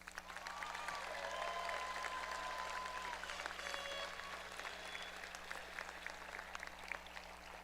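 Sustained crowd applause at a high school graduation ceremony for the seniors, a steady, fairly distant wash of clapping with a low constant hum underneath and faint cheers in the hall.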